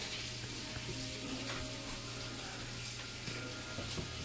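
An egg frying in a pan gives a steady, close sizzle with faint crackles throughout, no voices over it.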